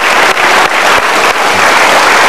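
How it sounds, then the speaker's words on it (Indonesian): Loud studio audience applause on an Indonesian television talk show, dense and continuous clapping close to the microphone with a few sharp individual claps standing out, sustained for a couple of seconds without speech. "mari kita berikan tepuk tangan untuk Vincent dan Desta."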